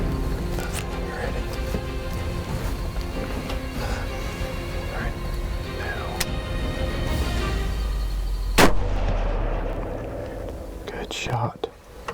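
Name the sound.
rifle shot fired at a whitetail deer while hunting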